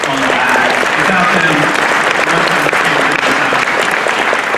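Steady applause fills a banquet room at a Charlotte County sheriff's dinner, honouring the families and spouses of first responders. The clapping is loud and continuous, with voices audible through it.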